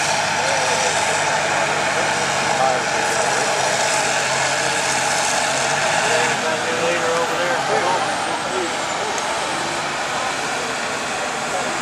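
A John Deere 5020 tractor with an upgraded engine roars steadily at a tractor pull show, a loud, continuous engine drone with an announcer talking over it.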